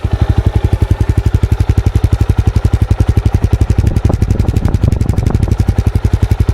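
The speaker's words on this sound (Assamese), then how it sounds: "এতিয়া মই আপোনালোকক শুনাবলৈ চেষ্টা কৰিম বাইকখনৰ চাউণ্ডটো" A Jawa 42 FJ motorcycle engine idles up close, a loud, even thumping pulse with a slight rise in revs midway, no talk over it.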